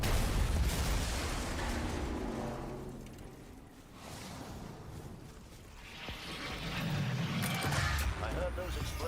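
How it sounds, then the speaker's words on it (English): Explosions in the Destiny 2 shooter game: rumbling blasts and booming bursts swell and fade at mid distance over continuous game noise, with a player speaking over them. "I heard those explosions from here."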